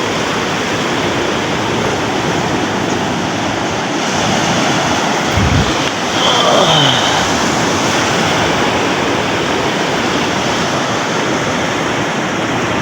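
Rough sea surf rolls in under strong northeast monsoon wind, a dense, loud, continuous roar of breaking waves and gusting air close to the shore, with a brief low thump partway through.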